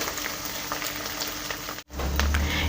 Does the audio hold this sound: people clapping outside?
no